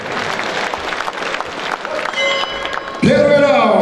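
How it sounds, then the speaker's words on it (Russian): Crowd applause and cheering rise at a fight event, mixed with a voice over the noise, before a loud sustained tone with a falling pitch cuts in near the end. "Аплодисменты."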